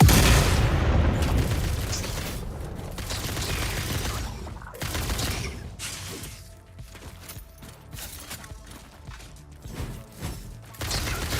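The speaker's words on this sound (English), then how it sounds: "Are you using homing bullets, you cheater?" Bursts of rapid gunfire and booming impacts in a video game, loud and dense at first, then thinning into scattered shots and mechanical clatter.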